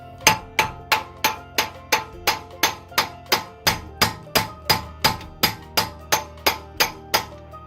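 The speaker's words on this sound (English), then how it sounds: "My one was completely stuck, so I use hammer." Steady hammer blows knock a stuck CV joint out of a BMW drive shaft, the nut left on its threaded end; about twenty loud, close, evenly spaced metallic strikes with no talking.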